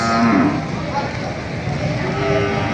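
Water buffalo at a livestock market lets out a long, loud, close moo that fills the whole moment, with people talking nearby.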